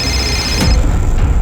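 A telephone rings in a tense police interrogation scene, a bright electronic ring that cuts off partway through, leaving a low rumble behind.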